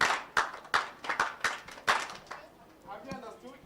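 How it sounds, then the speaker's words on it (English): Children clap for Nigel at a children's climate summit, sharp group claps in a quick rhythmic run of about seven, then a voice briefly talking. "clap for Nigel, and another one, and another one."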